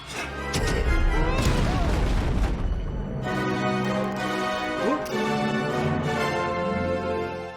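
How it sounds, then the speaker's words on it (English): Blaster fire from an animated Star Wars Rebels season 1, episode 11 scene: loud, crackling bursts packed into the first few seconds, then giving way to tonal music and voices. "He almost shot Zeb. I mean, I guess it kind of works. Like, he didn't fire at the guy. He just fired, like, below them"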